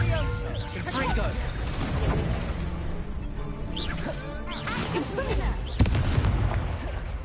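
A Confringo fire spell is cast in the video game Hogwarts Legacy, amid dense, loud combat effects with blasts, whooshes and rumbling impacts that run continuously under a speaking voice.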